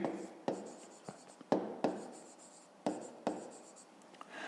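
Pen writing by hand on paper during a fifth-grade maths exercise: short soft scratching strokes in an uneven rhythm with small pauses, close and quiet, with no speech.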